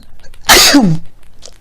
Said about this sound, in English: I'm about to sneeze, y'all.